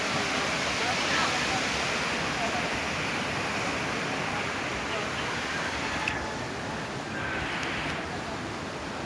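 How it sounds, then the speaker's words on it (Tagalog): A river heard on a nature-park walk, a steady broadband rush of flowing water that stays loud and even throughout with no clear breaks. "Ayan ang ilog, oh."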